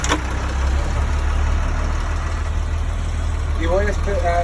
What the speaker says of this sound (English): I'm going to go ahead and crank the engine.